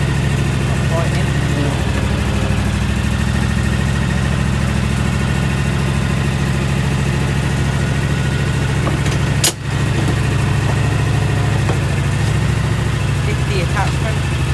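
A Husqvarna R420TSX AWD ride-on mower's small engine idles steadily with a low, even rumble throughout, broken by one brief click near the end.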